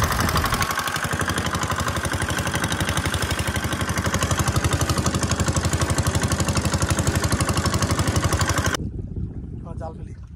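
A fishing boat's engine runs on a river as a loud, continuous rhythmic chugging that pulses steadily for most of the clip. Toward the end it cuts back to a quieter rumble with a faint voice.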